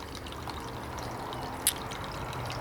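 Water pours down a runoff falls in a steady, soft rushing trickle. A single sharp, bright tick cuts in briefly partway through.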